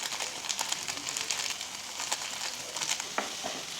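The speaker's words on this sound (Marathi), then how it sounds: "चांगलं परतून घ्यायचं आहे।" Tomatoes with garam masala and Maggi masala sauté in a pan for tomato oats, making a soft continuous sizzle and crackle with light stirring scrapes, quiet and without voices.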